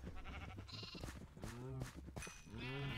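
Sheep in a video game bleat several times in quick succession, with drawn-out, wavering calls that are loud and close, and faint background sound underneath.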